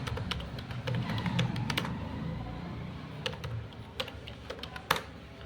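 Computer keyboard typing during a C programming lesson on condition statements, with irregular bursts of crisp key clicks, a fast run early and scattered presses later, including one louder tap near the end, over a low room hum.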